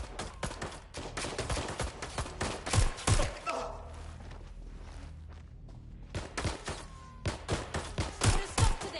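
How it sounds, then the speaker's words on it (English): Gunfire from the video game Watch Dogs: Legion comes in repeated sharp bursts, loud and close, with a brief lull in the middle before the shots resume in clusters. "They're shooting at us!"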